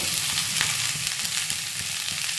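Cut ivy gourd pieces frying in a dry pan with no oil, a steady close sizzle with faint scattered crackles and soft stirring clicks, no voices.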